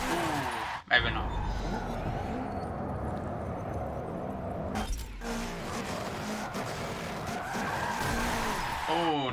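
A 2016 Subaru WRX rally car, number 199, skids under the handbrake in Forza Motorsport 7, producing long tire squeals and scrabbling gravel over the engine drone, with a sharp jolt early on and brief breaks in the sound. Someone talks over it.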